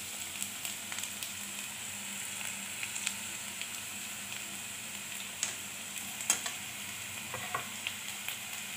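Crushed garlic and chopped green chillies frying with finely chopped onion in a pan, a steady close sizzle broken by scattered scraping ticks of stirring, with no voices.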